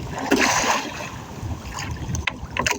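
Rough sea slapping and rushing around a small fishing boat, a steady wash of water and wind noise with a few sharper splashes close by.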